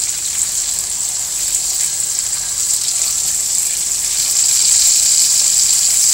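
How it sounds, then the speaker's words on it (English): Seasoned chicken breasts sizzle in two tablespoons of olive oil in a stovetop pan, giving a steady, fairly loud hiss that grows a little stronger toward the end. "we're just letting that brown in 2 tablespoons of olive oil"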